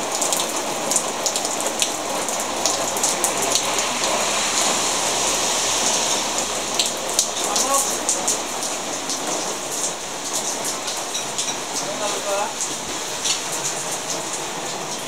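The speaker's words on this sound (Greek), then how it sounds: "Εκεί που είχε ήλιο, ξαφνικά άρχισε να βρέχει." Steady rain pattering on surfaces nearby, a dense hiss with scattered louder drips, with no talking.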